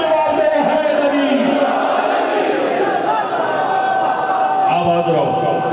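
A crowd at a Shia majlis gathering during Ramzan shouts a loud collective response to a religious slogan, voices massed and sustained throughout, with a leader's voice briefly audible.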